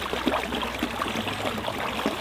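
A small stream with many little connecting channels rushes and burbles steadily at a bushcraft campsite, a fairly loud, continuous watery hiss with faint gurgles and no speech.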